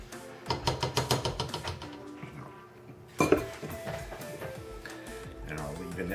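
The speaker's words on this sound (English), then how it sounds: "We're going to take the dip now and put it into a baking dish." Crab dip spooned into a baking dish, giving a brisk run of close, light clinks and scrapes of utensil on dish, then a louder clatter and softer scraping as it is spread.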